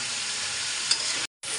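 Chicken frying with spices in a pan, a steady bright sizzle with a brief clink partway through and a short gap of silence near the end.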